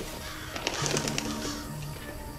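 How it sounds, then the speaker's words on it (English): Crows cawing in the video game Hello Neighbor 2, a cluster of several harsh calls over a steady ambient game background, moderately loud with no talk. "What are all these crows?"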